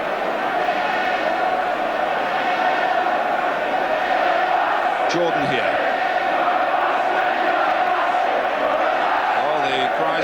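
Football crowd at an Ipswich versus Manchester United league match in 1979–80, a steady roar of cheering and shouting from the stands filling the whole stretch, with a commentator's voice briefly over it.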